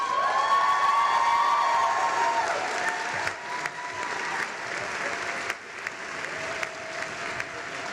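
A commencement audience at a dental school graduation breaks into loud sustained applause mixed with cheers and whoops, strongest at first and then thinning slightly while the clapping continues throughout.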